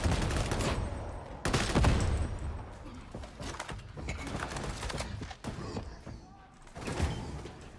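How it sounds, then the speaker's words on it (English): Shotgun blasts in the co-op shooter Darktide land as a few heavy booming thumps amid constant game combat noise, with voices chattering in the background. "Shotgun."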